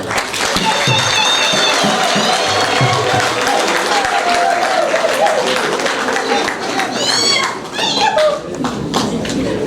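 Audience at a life celebration for a family matriarch applauding a priest, dense continuous clapping with cheering and high vocal cries mixed in, loud and full throughout.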